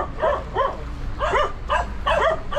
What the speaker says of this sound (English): A lot of dog security there.